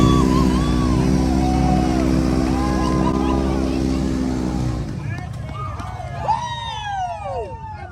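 A Polaris RZR off-road vehicle roars steadily at close range while driving into a mud hole at a Kentucky off-road park, its engine droning loud and constant before dropping off, followed by splashing, revving and people shouting and talking over it.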